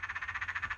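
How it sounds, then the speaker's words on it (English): A tree frog gives a rapid run of about eight pulsed croaks, close and clear, with no other sounds. "there's my parents' tree frog"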